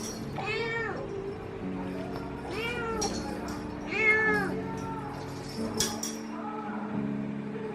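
A white cat named Putih meows several times indoors, with distinct drawn-out calls spaced a second or two apart at close range over a low steady background hum.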